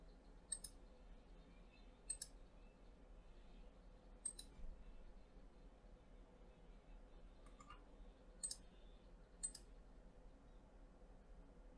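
Computer mouse clicks while confirming a sketch in Creo CAD software, sparse single and paired sharp clicks spaced a second or two apart over a faint quiet background.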